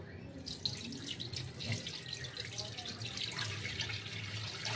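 Steady running water pours and splashes continuously, like water being tipped out of a vessel into a sink, as water is drained off soaked semolina for kurdai.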